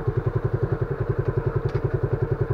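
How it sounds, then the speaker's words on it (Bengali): A 2021 Suzuki Gixxer 155 carburetor motorcycle idling up close, its single-cylinder engine thumping in a fast, even loping rhythm throughout. "এখন হচ্ছে এই বাইকটার সাউন্ডটা আপনাদের একটু শোনাবো"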